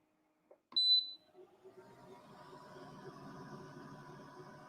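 A laser engraving machine gives a single sharp, high beep after a couple of soft clicks, then settles into a quiet, steady whirring and buzzing as engraving begins.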